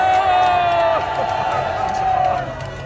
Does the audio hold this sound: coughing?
no